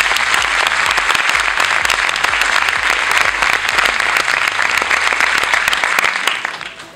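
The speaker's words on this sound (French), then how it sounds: "je vous demande d'applaudir l'organisation." Sustained, dense applause from an event audience at the Mister Royal Guadeloupe 2012 pageant, loud and steady for about six seconds before tapering off at the end.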